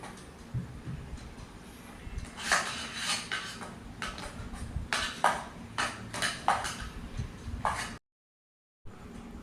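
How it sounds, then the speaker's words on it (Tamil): A spoon scrapes and clacks against a pan as fried raisins and cashews are stirred into mango kesari, repeated close metallic knocks in an uneven rhythm, then a brief cut to silence. "நம்ம வறுத்து வச்ச திராட்சையும் முந்திரியும் அதில் போட்டு கலந்துக்கலாங்க"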